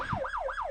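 A police vehicle siren in Roblox set to yelp, rapid repeating up-and-down sweeps cycling about four times in under a second, fairly quiet and clear with no talk.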